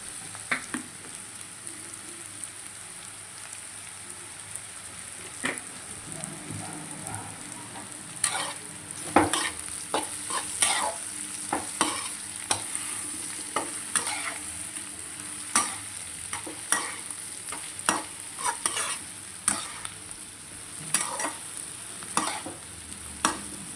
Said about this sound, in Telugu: కాకరకాయ ఇట్లా మగ్గాలన్నమాట ఇంకొంచెం మగ్గాలి కాకరకాయ